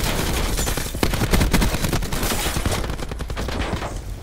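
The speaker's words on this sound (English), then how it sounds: "he's just gonna keep shooting the fucking Jeep until it blows up" Sustained rapid gunfire rattles nonstop from a video game as shots pour into a Jeep, dense and loud throughout, with bursts overlapping into a continuous barrage.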